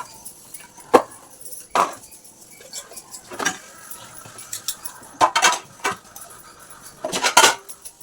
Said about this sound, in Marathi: तर बघा फ्रेंड्स एवढी भांडी घासून झाली आहेत मी आता एवढी भांडी घासली आहेत